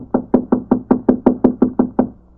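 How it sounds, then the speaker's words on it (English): Ten steady knocks rap on a hotel room door, evenly spaced and close, with no voices. "I'll knock again."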